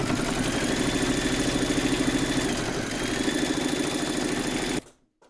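A sewing machine runs steadily at close range, satin-stitching a join on a fabric bowl segment with gold thread, its motor whirring and needle ticking rapidly before stopping abruptly.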